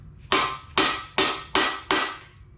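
Five heavy, evenly spaced hammer strikes land on a balance shaft bearing in a 7-bolt 4G63 engine block, each a loud, close, ringing metallic whack with a short decay, no voices.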